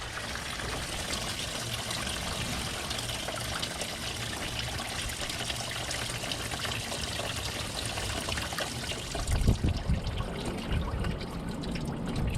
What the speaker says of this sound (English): Hopefully it's done draining.